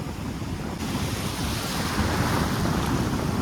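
Sea waves at Tajpur beach wash and roar in a steady, continuous rush of surf, loud and close with wind buffeting the microphone throughout.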